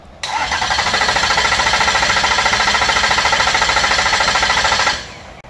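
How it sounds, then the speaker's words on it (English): A turbocharged engine cranks over on the starter with a loud, close, steady rhythmic churning that lasts nearly five seconds without catching, and no voices are heard. "in preparation for being able to attempt to start the engine"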